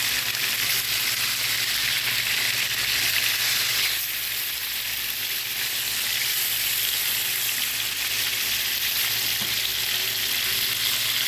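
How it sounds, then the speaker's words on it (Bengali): Koi fish frying in a frying pan, browning in hot oil, with a loud, steady, unbroken sizzle that holds evenly throughout and no voices. "এখন কই মাছটা আমি দুই একদম বাদামি করে ভেজে নেব"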